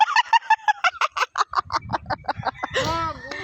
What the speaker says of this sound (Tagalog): May ibon dito.